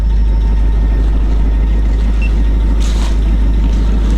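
A B series engine in an Alvis armoured vehicle, a Saladin or Saracen, idles loud and close with a deep steady throbbing rumble and a brief hiss partway through.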